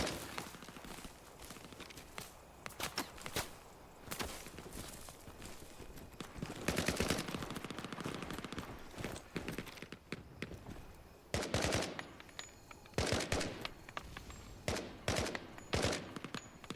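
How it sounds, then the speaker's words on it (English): Gunfire in the jungle in the Vietnam-era video game Hell Let Loose: repeated sharp cracks and short automatic bursts at varying distances, some near and loud, scattered irregularly over background ambience. "do love how you just hear the crack of gunfire"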